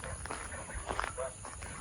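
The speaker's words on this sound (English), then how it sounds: "here's all the ducks. I hear them. There's the geese." Ducks quacking and geese honking on a farm at feeding time, a busy overlapping flock of calls close by, with a voice speaking over them.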